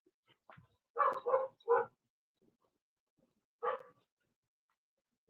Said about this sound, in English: who bark, who barking?